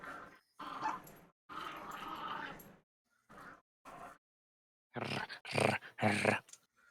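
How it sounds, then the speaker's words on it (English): A pet dog growls and whimpers in short bursts at close range, the noises broken by silent gaps, with louder, fuller bursts toward the end. "I hope everyone enjoys the noises of my dog."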